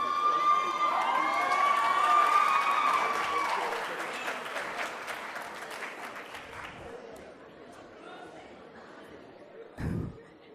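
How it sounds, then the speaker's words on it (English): Home crowd at a high school lecture event breaking into warm applause and cheering, loud at first with excited shouts, then fading into scattered clapping and murmured voices, ending with a brief close thump. "With the home crowd celebration."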